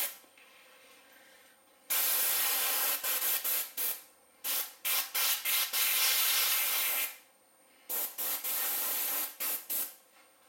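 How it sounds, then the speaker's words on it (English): An airbrush sprays paint to weather a model 2402, adding streaks along the sides and on the drivers: loud, steady hissing bursts of varying length, separated by short pauses and one longer gap. "And that's it for the airbrushing."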